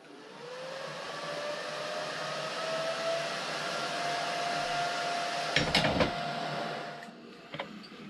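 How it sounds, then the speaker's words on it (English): A steady electric hiss and hum runs for several seconds while metal parts are welded on a Royal Enfield bobber motorcycle project, ending with a few sharp crackles and clicks near the close. "Just weld that to that."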